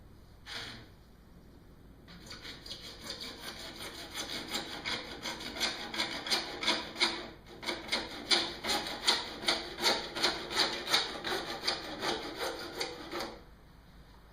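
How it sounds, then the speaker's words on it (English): A back saw cutting through a pipe held firmly in place, starting with a few tentative strokes and settling into a steady rhythmic rasp of back-and-forth strokes that grows louder, then stops abruptly. "You do need to hold this pipe fairly tightly as you cut it. I have this back saw"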